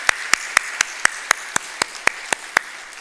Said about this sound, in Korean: 우리 주님께 한번 영광의 박수 드리겠습니다